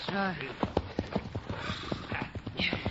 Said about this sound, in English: Out the horses.